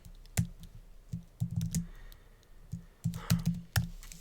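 Someone types on a computer keyboard close by in irregular bursts of clicking keystrokes with short pauses between them, alone in a quiet room.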